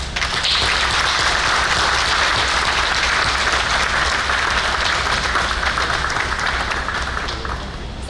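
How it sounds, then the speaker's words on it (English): Sustained crowd applause at a Hmong festival in Wausau, steady dense clapping from many hands lasting throughout, loud and even, tapering slightly at the end. "I think our grandparents and parents deserve a round of applause."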